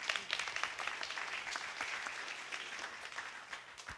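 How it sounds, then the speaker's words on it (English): An audience claps at a community event on racism, steady applause from a modest crowd that fades slightly toward the end. "Applause before speaking."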